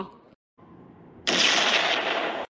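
Cartoon firecracker blast sound effect: after a few faint, broken sounds, a loud crackling burst lasting about a second erupts and then stops sharply.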